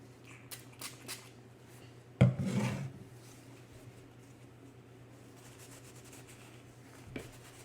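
A cloth wipes down a Polymer 80 pistol coated in CLP, a single short, scratchy rubbing burst over a faint hum, with a few tiny ticks before and after.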